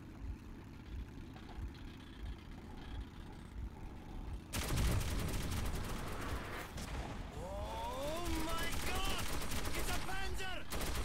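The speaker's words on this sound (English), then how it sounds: "How do they... Hey, how do they have a tank? And what the hell is it shooting?" A tank opens fire in the Metro 2033 Redux video game: a sudden loud blast after a quiet stretch, followed by sustained rumbling gunfire and bursts, with whistling tones over the noise.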